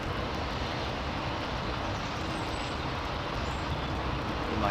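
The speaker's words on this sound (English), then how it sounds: "Amazing aircraft." Aircraft at London Heathrow Airport, a steady broadband engine roar heard at a distance, with constant background rumble and no clear rise or fade.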